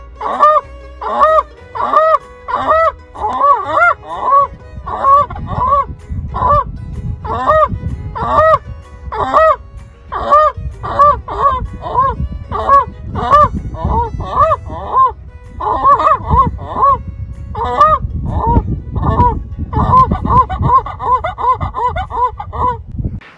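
A person mimics goose honks with their mouth, loud repeated honking calls in quick rhythmic bursts, close and continuous for the whole stretch.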